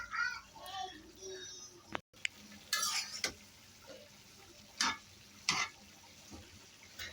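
A spoon stirs a bottle gourd greens curry with dried puti fish in a pan, giving a few scattered scraping and clinking strokes over faint cooking noise, fairly quiet and close.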